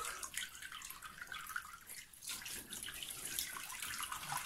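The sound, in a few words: water poured during newborn baby bath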